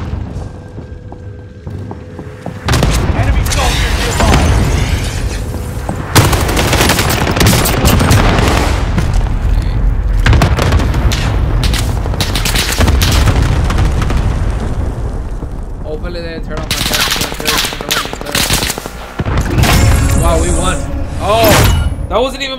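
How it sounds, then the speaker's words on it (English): Allied cluster strike in a first-person shooter, a long run of loud, dense booming blasts and crackling gunfire rolling on and off for over twenty seconds, with someone talking over it. "Allied cluster strike arriving."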